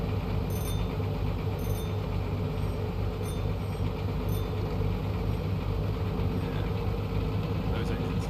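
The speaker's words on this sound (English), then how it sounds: "Those engines, listen to them" Steady low diesel rumble of U-boat engines inside a submarine video game, a continuous droning hum with mechanical clatter that holds level throughout, with a voice speaking over it.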